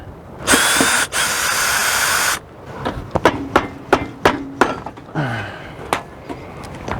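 A power drill backs screws out of an end cap on an LCI patio awning: two sustained close whirring bursts, then a run of sharp knocks and taps, with a final shorter drill whir.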